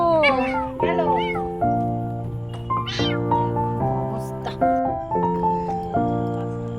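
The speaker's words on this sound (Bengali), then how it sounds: "দেখেছো গাড়ির নিচে বিড়াল" A cat hiding under a car meows repeatedly in a series of loud, drawn-out, tonal cries at a steady rhythm, close by and with no other sound.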